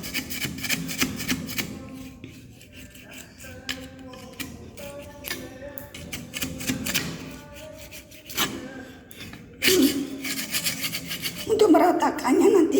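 Dried cement residue is scrubbed off a cracked wall in uneven rasping strokes, with gritty scraping and a few louder, rougher bursts near the end.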